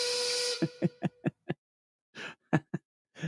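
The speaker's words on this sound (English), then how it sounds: "I'm loving that steam whistle." A steam whistle blows a sustained hiss-toned blast, then cuts into a series of short sharp bursts with gaps of silence between them.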